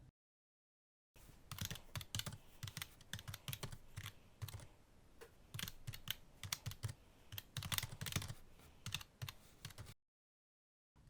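Commands are typed on a computer keyboard in Windows 10: a steady, quiet clatter of keystrokes runs for about nine seconds with no voice, ending in silence.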